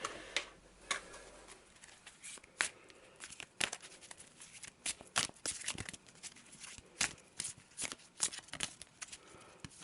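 A deck of gear cards for the Overload board game is shuffled by hand: a steady run of crisp, close riffles and snaps of card stock, repeating rapidly throughout with no speech.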